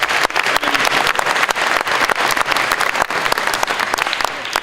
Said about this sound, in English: Hans, an applause for Hans.